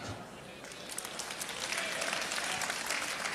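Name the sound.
audience applause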